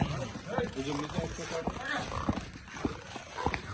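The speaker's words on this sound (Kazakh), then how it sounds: "аттар жүктеліп отыр" Horses clip-clop with scattered hoof knocks and an occasional whinny as they are loaded onto a truck at a wrestling gathering in Namangan, Uzbekistan, while people talk over the activity.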